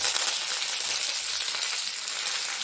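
Mustard seeds and curry leaves sizzling in hot oil while tempering for a tomato curry, giving a steady, bright hiss with faint popping crackles throughout.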